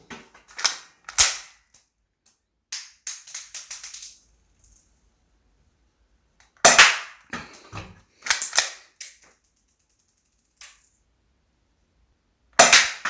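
Academy Luger P08 air-cocking spring pistol firing, sharp snappy cracks in short bursts with cocking clicks between, close and loud, no talking.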